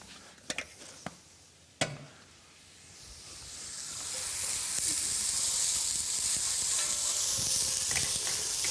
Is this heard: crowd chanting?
no